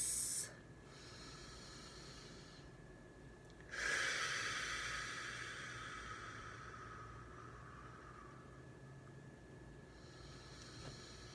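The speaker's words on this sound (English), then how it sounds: "Let's go ahead and sit and take a few deep breaths." Deep breathing during a tapping session, with slow airy inhales and exhales: a long breath out around the middle that fades gradually, close and soft, with no talking.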